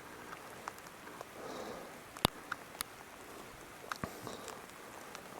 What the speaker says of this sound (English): And it's starting to rain pretty good, you guys, look.